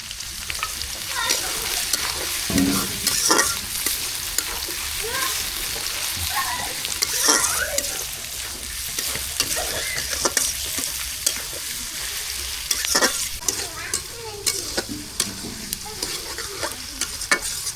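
Spice paste fries in a pan with bay leaf, garam masala, cardamom and cinnamon for pulao and meat, a continuous close sizzle broken by repeated scraping stirs and clinks of the spoon.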